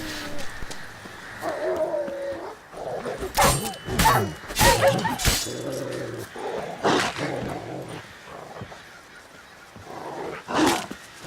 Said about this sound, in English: There's a wild dog outside.